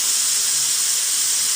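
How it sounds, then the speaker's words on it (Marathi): Steam blasts from a pressure cooker's whistle as it is lifted by hand with a knife while chicken gravy cooks, giving a loud, continuous, steady hiss close by with no pauses. "कुकरला चांगला प्रेशर आला. आता आवाज त्याचा वाढला हळूहळू"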